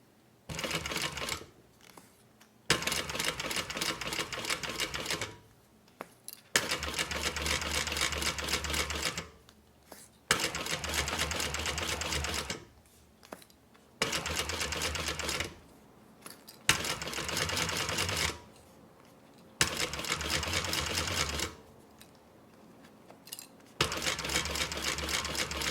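A sewing machine stitches down a rolled handbag handle in repeated bursts of steady, close, rapid stitching, each run a few seconds long and separated by short pauses.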